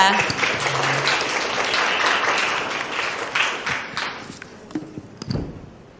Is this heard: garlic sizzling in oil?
no